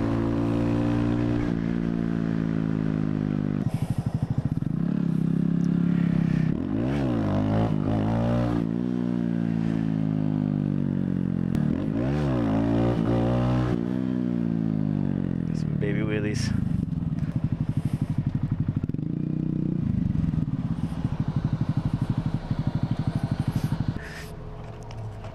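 Honda Grom motorcycle ride on a road, the small engine droning and revving up and down with shifting pitch, close and loud, with wind rumble throughout.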